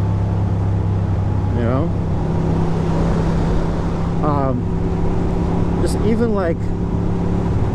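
Riding a new Ducati motorcycle on Catskills roads, a steady loud engine drone with wind rush throughout, while someone talks over it in bursts.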